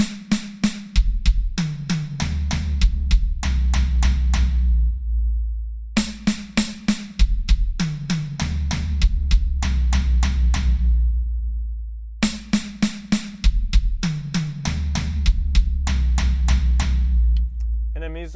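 Drums play a slow linear fill, four notes each moving from crisp snare hits down through higher and lower toms to deep floor tom booms, repeated three times.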